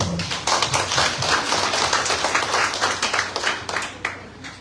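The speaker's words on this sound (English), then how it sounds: "Can we give a clap offering to God?" A church congregation claps together in a dense, sustained burst of applause that carries steadily to the end, with no voices over it.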